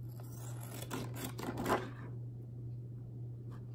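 Scissors cut through a laminated cash envelope sheet, leaving a small edge around the sealed pocket: a quiet, close run of crisp snips and plastic crackles over about two seconds, then near silence with a steady background hum.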